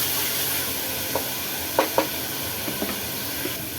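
A constant soft sizzle comes from onion and tomato sautéing in a pan, with a few light spatula scrapes and taps.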